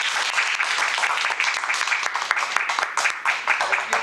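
Audience at a Toastmasters meeting applauding, a brisk, close crowd of hands clapping steadily for a few seconds with uneven bursts.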